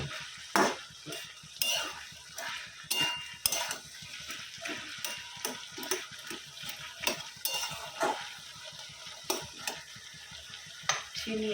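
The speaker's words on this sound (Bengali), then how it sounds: "মশলা সব দিয়ে দিয়েছি, আর এখানে ঘি গলতে দিয়ে দিয়েছি।" Spices fry in melted ghee with ginger paste, turmeric and cumin powder for a coconut and banana-flower curry. A utensil scrapes and clicks against the pan in repeated stirring strokes over a steady low sizzle, all close up, with no talking.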